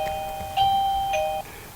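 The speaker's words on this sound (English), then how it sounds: "I had someone ring our doorbell there" Doorbell ringing indoors, two clear electronic ding-dong chimes in quick succession, moderately loud against a quiet room with no one speaking.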